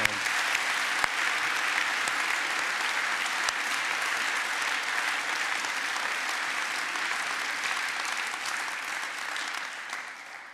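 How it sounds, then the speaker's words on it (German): Sustained audience applause in a hall, dense and steady for about ten seconds before easing slightly at the end, with no talking over it. "Komm, wir geben ihnen aber mal einen Applaus."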